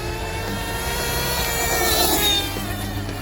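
A Losi 454 RC truck engine revving below full throttle: a loud, steady buzzing whine with layered harmonic tones that swells slightly toward the middle, heard close and without voices.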